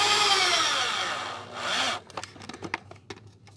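A power drill drives screws into a chicken feeder made from recycled materials: a sustained whirring drill note for about two seconds, then a series of short irregular knocks and clatters as the screws seat.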